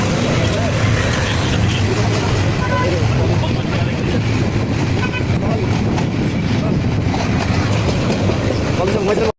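A train runs at speed with a loud, continuous rumble and rattle that fills the whole stretch, heard from on board with people talking faintly under the roar.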